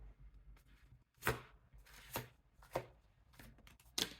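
Tarot cards being shuffled by hand, quiet and close, in about five separate sharp riffling bursts spaced roughly half a second to a second apart with near silence between them.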